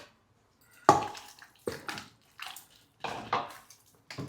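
Water poured from above onto a tamarind pulp mixture in a bowl, several short splashing gushes separated by brief pauses, close and clear, with no voices.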